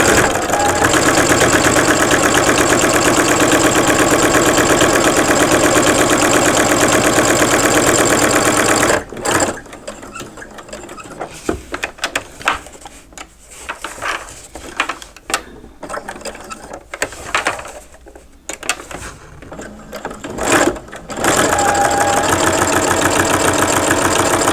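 An embroidery sewing machine stitches an in-the-hoop coin purse, running loud and steady with a fast mechanical rattle, then breaking into sparse, intermittent stitching before running hard again.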